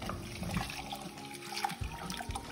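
Water or vegetable stock poured into a soup pot for Jerusalem artichoke soup, a continuous splashing stream with gurgling variations, close and moderately loud.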